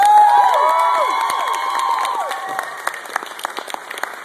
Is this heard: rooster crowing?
no